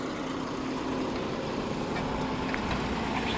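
A John Deere 5075E CRDI tractor of 75 hp runs in first gear at about 1400 rpm, pulling a Lemken Juwel 6M moldboard plough across a field, a steady low engine drone with faint field noise.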